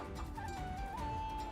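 Clucking chicken in a video game, a steady electronic warble over a busy, continuous game soundscape with no talk.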